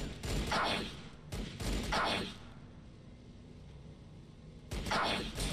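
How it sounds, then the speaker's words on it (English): Gunfire in the strategy game Warhammer 40000 Battlesector: three loud clustered bursts of shots with rushing impacts, separated by quieter battlefield ambience, with no talking. "Still firing, still shooting at us."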